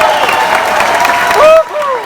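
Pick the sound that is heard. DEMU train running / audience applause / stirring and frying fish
audience applause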